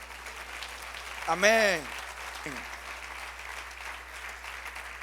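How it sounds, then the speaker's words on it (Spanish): Congregation applause during a church sermon, with steady clapping through the whole stretch and a voice calling out briefly partway through. "Dale un aplauso al Señor."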